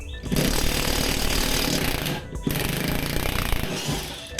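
Heavy impact wrench hammering away on the deck of a Husqvarna RZ4623 riding mower, loud and close, rattling continuously for about two seconds, briefly pausing, then resuming for a second long burst.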